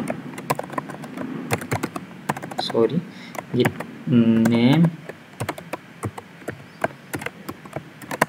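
Rapid, uneven clicks of fingers typing code on a computer keyboard run steadily throughout, close and crisp, interrupted briefly by someone speaking in the middle.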